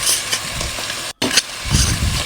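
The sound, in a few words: garlic frying in hot oil in pan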